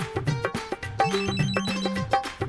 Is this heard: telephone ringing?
yes